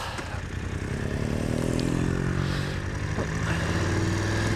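A motorcycle on Metzeler Tourance Next 2 tyres climbs the Furka Pass, its engine droning loud and close with shifting revs throughout.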